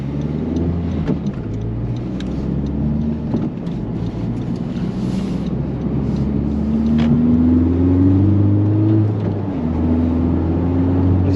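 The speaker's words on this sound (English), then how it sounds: "See if I can get on the throttle here a little." A car accelerates along a quiet Virginia road, its engine droning low and steady before the pitch climbs smoothly through a rising rev and shifts, with road and wind rumble underneath throughout.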